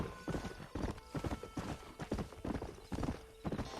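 Horse hooves clip-clop in quick uneven bursts in Red Dead Redemption 2, close and clear, with a short whinny among the steps.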